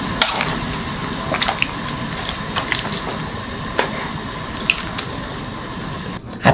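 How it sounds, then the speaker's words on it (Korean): Gomchwi greens with thick stems dropped into a pot of boiling water for a brief blanch, giving a steady bubbling, watery hiss with scattered small splashes and squishy clicks, fairly close, with no talking. "끓는 물에 곰치 넣어줄 거예요"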